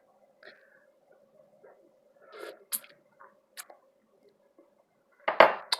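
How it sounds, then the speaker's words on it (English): Hot and sour soup being stirred in a pot, with a few scattered utensil clinks and scrapes against the metal, faint at first, then a louder clatter near the end. "Let's give it a little stir here"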